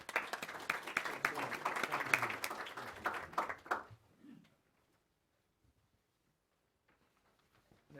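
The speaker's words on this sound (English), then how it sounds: "Give him another round of applause." An audience at a panel discussion claps in a dense burst of applause for about four seconds, then it stops abruptly, leaving near silence with a few faint knocks.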